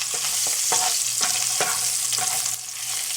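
Celery frying in hot oil spiced with turmeric, mustard seeds and curry leaves, giving a loud, dense sizzle with rhythmic scraping stirs every half second or so, close up.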